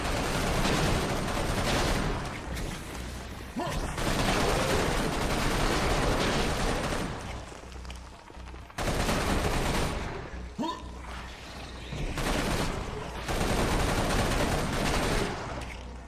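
Sustained rapid gunfire from the first-person shooter Serious Sam BFE, a loud dense barrage of shots in three long bursts separated by brief drops, with no talking.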